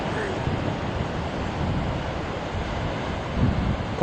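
Big ocean waves crash and surge at Cape Spear, Newfoundland, a rough broadband roar with heavy wind buffeting the microphone and a swell of surf near the end.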